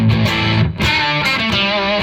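High-gain overdriven electric guitar through a Ridge pedal preset, loud saturated chords ringing with a brief cut midway, played alone.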